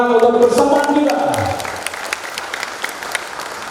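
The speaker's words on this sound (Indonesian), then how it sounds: "Sekali lagi tepuk tangan untuk bersama kita." Audience applause at an Indonesian food and drug agency outreach event on traditional medicine and health supplements with community leaders; a dense, steady round of clapping rises under a speaking voice, then carries on alone.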